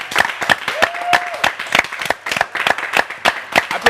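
Audience claps to welcome a singer onto a stage show, with sparse, distinct hand claps repeating in an uneven rhythm, fairly close, and a brief tonal whistle or voice-like sound partway through.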